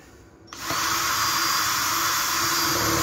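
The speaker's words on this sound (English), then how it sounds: "I'm drilling." A power drill whirs up after a short quiet moment and keeps spinning at a steady, loud, high pitch, drilling into a Peugeot Boxer camper van.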